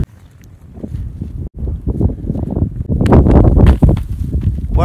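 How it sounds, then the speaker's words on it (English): Gusty wind on a house rooftop buffeting a microphone outdoors, rumbling and roaring in uneven bursts, growing stronger toward the end. "it's kind of windy up here."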